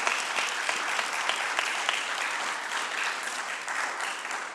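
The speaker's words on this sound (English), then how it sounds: "So do a big hand of applause for our campus care team" Sustained applause from a congregation at a church forum, an even wash of many hands clapping at moderate volume with no voices on top.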